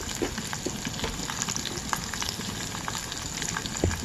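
Chana dal and whole urad dal fry in hot oil for a Rayalaseema-style garlic chutney, giving a continuous dense crackling sizzle with tiny pops throughout, close and fairly loud, no voices.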